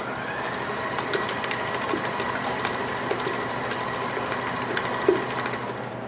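Electric mixer beating a sweet cream cheese filling for Danish pastry at medium speed, a steady close whirring drone that holds evenly throughout with faint clicks and rattles.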